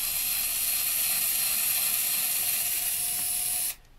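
A Black & Decker Gyro electric screwdriver fitted with a 10mm socket spins steadily while backing out the bolts of a car's rear light, a close, continuous whirring buzz that cuts off sharply near the end.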